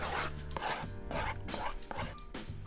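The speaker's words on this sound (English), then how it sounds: "grind down the edges of the skateboard" A skateboard deck's edges are ground down with a tool, giving repeated rough rasping strokes in a steady rhythm, close and moderately quiet, with no voices.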